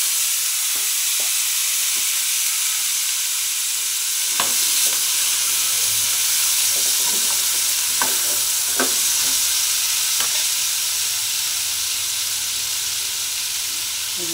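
Peas and potatoes sizzle in hot oil tempered with cumin, a steady hiss of frying with occasional sharp clicks of a spatula against the pan, no voices.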